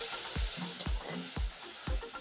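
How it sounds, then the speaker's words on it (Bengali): Ground spices are stirred in a hot pan for a vegetarian mung dal, a gentle sizzle under four evenly spaced scraping strokes of a spatula, close and quiet with no talk. "মশলাটা সামান্য একটুখানি নেড়ে নেব, বেশি ভাজবো না"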